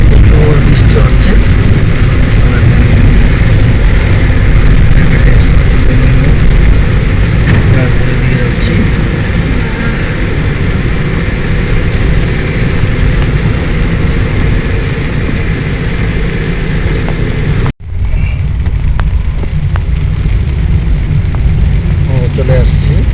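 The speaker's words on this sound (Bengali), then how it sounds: "প্রচুর বৃষ্টি হচ্ছে" Heavy rain drums steadily on a moving vehicle near Hazrat Shahjalal International Airport in Dhaka, a loud continuous roar with road and engine noise, briefly cut near the end.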